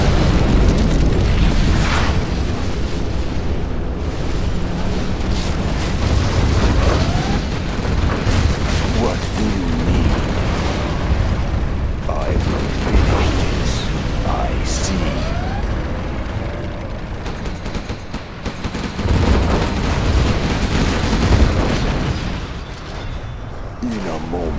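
Explosions from a nuclear missile strike in Command & Conquer Generals Zero Hour, a long, loud, rumbling roar of booms and blasts, with voices talking over it.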